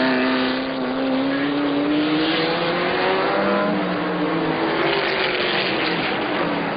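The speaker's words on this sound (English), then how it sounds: "We got Felton working his way into the S's in a car smoking up ahead of him" Race cars at the 1981 IMSA race at Pocono drone past in a sustained engine roar, their pitch sliding as they move, loud and steady with no voices.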